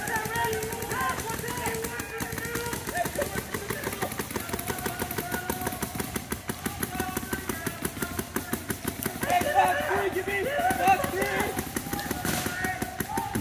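Paintball markers fire in rapid, rhythmic volleys during a competitive tournament match, the steady popping running continuously under a commentator's play-by-play.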